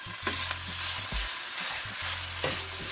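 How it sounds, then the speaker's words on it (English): Poultry mince frying in about two tablespoons of oil in a pan, with a steady broadband sizzle and occasional scraping, stirring knocks as the meat is broken apart; close and moderately loud, no talking. "And I'm putting in my mince now."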